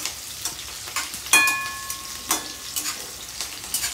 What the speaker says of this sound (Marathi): मिरची एकदम डीप फ्राय करून घ्यायची.